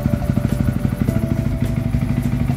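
Yamaha WR 155 motorcycle with a bored-up engine idling steadily, a close, loud, rhythmic low thumping pulse with light mechanical clatter and no voices.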